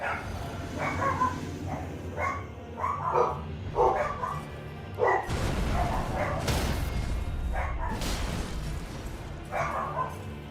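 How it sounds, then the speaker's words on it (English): Several pet dogs bark excitedly at close range in repeated bursts, with yips and whimpers between the barks, continuing across the whole stretch. "My dogs are going crazy."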